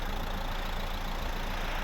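A 2012 Renault Scenic III with the 1.5 dCi diesel engine idles in a steady, continuous drone at moderate level, with no talk.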